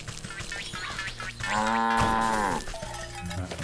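A cow moos in the video game Wytchwood, one long drawn-out low call rising and falling over about a second, set against steady game background music.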